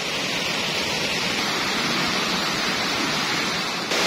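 Itbog Twin Falls in Buhi, Camarines Sur, pours steadily as a loud, even roar of falling water, continuous from start to finish with no voices and only a slight jump in level near the end.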